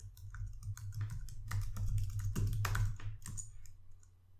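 A command is typed on a computer keyboard in a Linux terminal: a quick run of close, crisp key clicks with uneven spacing, tapering off near the end, with no talking.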